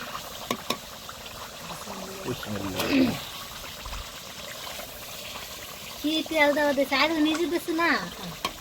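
Duck meat sizzles and hisses as it is sautéed in oil for khichuri, a soft, steady frying texture with stirring noises, while people talk over it.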